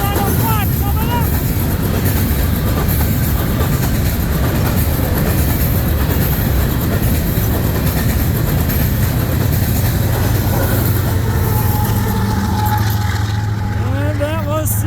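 A CN freight train, B731, rolls past at Ladysmith, Wisconsin with the rear distributed power unit coming up, a loud, close, continuous rumble and clatter of wagons, with people talking over it.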